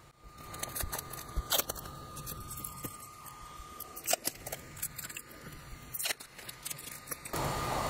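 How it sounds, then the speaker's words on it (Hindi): Sticky tape rips and crinkles in quick, close bursts as it is pulled and pressed over the tops of three test tubes for an iron rusting experiment, with sharp tearing snaps over a quiet background. "तो उसके लिए मैं तीनों को टेप से चिपका रहा हूँ ऊपर"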